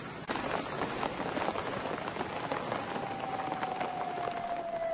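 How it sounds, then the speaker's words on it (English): Heavy rain from a storm in the video game Battlefield 4 patters steadily and densely, a continuous wash of drops at moderate loudness, with a faint tonal whine rising in the background. "Yeah, I think it's raining."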